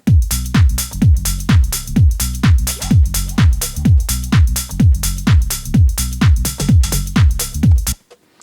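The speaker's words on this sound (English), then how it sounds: "So together with everything else, the bass sounds like this." A driving house bass line with reverb and saturation pulses in a steady, punchy rhythm of deep repeating notes, loud and continuous for several bars before stopping abruptly.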